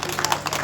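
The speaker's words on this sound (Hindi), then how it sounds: "एक बार जोरदार तालियां बजा दें इनके लिए।" An audience at an Uttarakhand foundation day gathering claps briefly for a welcomed guest, a short burst of dense, fairly loud applause.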